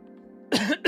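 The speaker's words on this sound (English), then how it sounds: "I got a cough." One sharp, close cough, followed by a quick second burst, right after a low steady hum.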